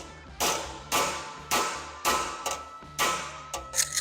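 A hammer strikes sheet metal on a roadster hood panel held against a dolly. About eight sharp metallic blows ring out at a steady, brisk rhythm, close and clear, with no talking.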